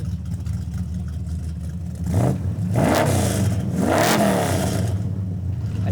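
A 1970s Dodge Charger V8 idles with a low, lumpy burble, then is revved hard twice, each blip rising and falling in pitch, loud and close, with no talking.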